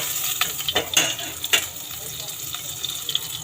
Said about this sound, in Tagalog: Isunod ko ng igisa itong bawang sibuyas